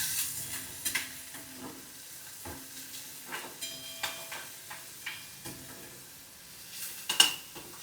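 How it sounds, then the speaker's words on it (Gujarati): Cumin seeds and onions sauté in hot oil, giving a soft sizzle broken by sharp clicks and scrapes of a spoon stirring the pan, close and fairly quiet. "થોડું એમાં જીરું નાખશું અને ડાયરેક્ટ એમાં કાંદા નાખી દઈશું અને એને થોડા સાતળવા દઈશું."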